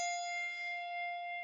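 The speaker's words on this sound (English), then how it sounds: "Ring bell number 1 over its home position." A single handbell, the first bell in a handbell weaving exercise, is struck once and rings alone with a bright, sustained tone that barely decays.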